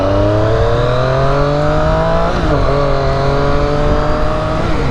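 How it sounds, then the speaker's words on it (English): A 2018 Triumph Street Triple 765RS motorcycle runs at low speed, its engine giving a steady, smooth, loud drone with a slight dip in pitch midway, close up and without talk. "you can see how smooth the bike runs at low speeds"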